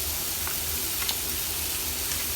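Butter melting and sizzling in a hot pan beside a sous vide steak: a steady, close, hissing fry with faint crackles, with no voices.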